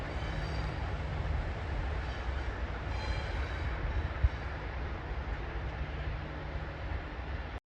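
Two ALCO FPA diesel locomotives drift downgrade on snowy New York and Lake Erie rails. A steady, loud rolling rumble continues throughout, with a faint hum and one brief click partway through.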